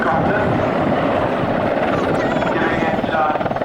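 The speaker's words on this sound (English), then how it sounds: "there's a 3-engine helicopter," A three-engine helicopter flies at the Middle Wallop airshow with a loud, continuous rotor and engine roar that pulses steadily throughout, while a commentator talks over it.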